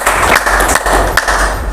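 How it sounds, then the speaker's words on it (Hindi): A satsang audience claps to welcome a guest, a dense, loud burst of applause lasting under two seconds with no voices over it. "जोरदार तालियों से स्वागत कर दीजिए निर्मल साहिब"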